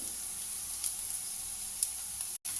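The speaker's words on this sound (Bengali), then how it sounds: "পোহা রান্না করার সময় এই কারি পাতা দেওয়াটা মাস্ট, কারণ খুব সুন্দর একটা গন্ধ হয় তাতে।" Curry leaves sizzle in hot oil while Maharashtrian-style kande poha is being cooked, a steady bright hiss throughout with a few small pops and one brief dropout near the end.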